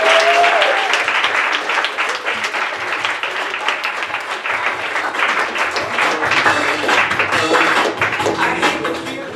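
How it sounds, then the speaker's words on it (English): Comedy club audience applauding at County Comedy Club, a loud, dense, sustained burst of clapping from a crowd filling the room throughout. "Give another round of applause."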